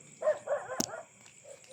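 A few quick dog barks in a row, with a sharp click in the middle, then fading to a faint yip over a constant background hum.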